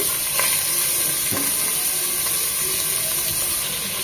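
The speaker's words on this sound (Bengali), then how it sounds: "দিয়ে দেব হাড় সহ চিকেন।" Bone-in chicken pieces drop into hot oil in a pot for chicken soup, setting off a loud, steady sizzle and hiss that runs throughout with a few sharper crackles.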